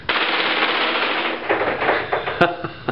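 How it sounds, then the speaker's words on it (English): Rapid bursts of shots from a G&G CM16 airsoft gas blowback rifle fired at a cardboard zombie target, a dense sharp rattle for about three seconds with one louder crack near the end. "That's our shots there on the zombie target."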